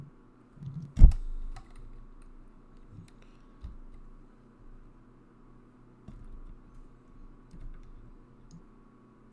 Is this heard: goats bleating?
no